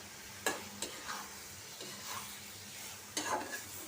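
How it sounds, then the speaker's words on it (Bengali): Tomato being stirred into fried masala in a pan for shrimp curry, with a few sharp scraping stirs over a soft, steady sizzle close by and no talking. "টমেটোটা দিয়ে দিব টমেটোটাও আমি কষায় নিব দুই তিন মিনিট"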